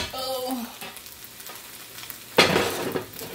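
Fried rice sizzling and frying in a pan with some stirring, a steady hiss that surges loud near the end, no talking.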